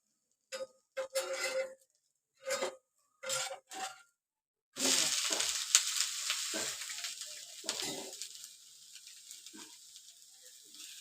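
A rice ghavane crepe roasts on a hot griddle with a sudden, steady sizzle and hiss that follows several short separate bursts of sound and slowly fades, broken by a few soft scrapes.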